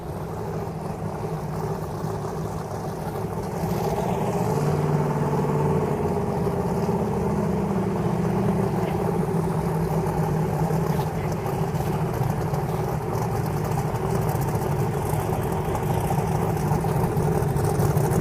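A twin-turbo Pro Boost drag racing car engine idles and rumbles steadily at a PDRA event at Indy, a continuous mid-distance drone that swells slightly partway through, with faint voices in the background.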